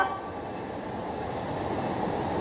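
The last train to Tsuchiura departs JR Ueno Station, rumbling steadily nearby with a continuous broadband roar as railcars move along the track without pause.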